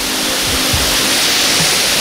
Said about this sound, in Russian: В самом начале Джейрахского ущелья на склоне сакральной Столовой горы падает вниз река